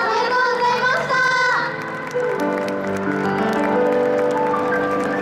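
An audience at a Tokyo hometown festival's Aomori night applauds an Aomori regional idol group, with loud crowd clapping and cheering running beneath sustained music and tones.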